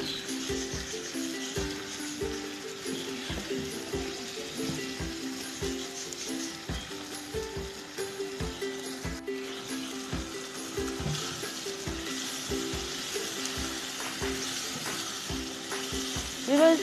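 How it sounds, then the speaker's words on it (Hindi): Mutton stew being stirred in a pot: soft, regular scraping strokes repeat steadily through the whole stretch, moderately close, over faint steady background tones and with no talking. "अच्छी तरह से हल्की हिलाएं,"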